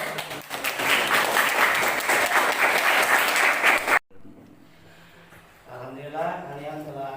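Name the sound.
students applauding in class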